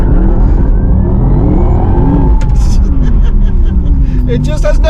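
A Porsche Taycan Turbo GT electric car launches at full throttle, its rising electric whine and road roar loud and constant from inside the car, with faint tire squeals toward the end.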